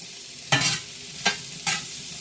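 Mushrooms and onions cooking down in a pan: three short bursts of sizzle about a second apart, each flaring then easing off, close and moderately loud with no voices.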